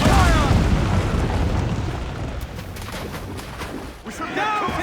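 Ship cannons firing a broadside in Assassin's Creed IV, a loud booming blast with rumbling roar that fades over several seconds before another burst hits at the end.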